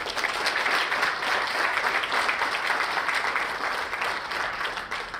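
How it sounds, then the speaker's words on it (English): A roomful of people applauds the planning team at a military heritage symposium, steady dense clapping that stays loud and even for about five seconds with no voices over it. "let's give them a round of applause."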